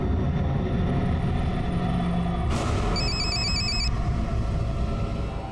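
A telephone rings in a tense crime-drama scene: a short burst of electronic ringing tones partway through, heard over a loud, dense background bed with no one speaking.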